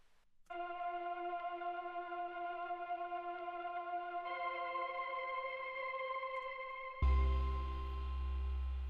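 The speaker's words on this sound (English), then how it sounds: "I added this mellotron layer that comes from Omnisphere." Omnisphere mellotron Choir Work 1 layer: a sustained synthetic choir chord held steadily, shifting voicing partway through, then a loud thick low-heavy chord swells in near the end; no voices speaking.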